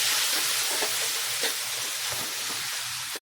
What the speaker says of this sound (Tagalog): naigisa ko na siya ng bawang, luya, sibuyas